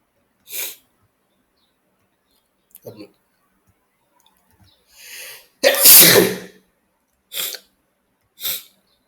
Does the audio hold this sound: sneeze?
yes